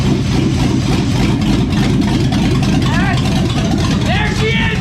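A budget $2,500 car's engine runs rough and won't settle into an idle, with a suspected vacuum leak. Its loud, close, continuous rumble carries faint voices over it.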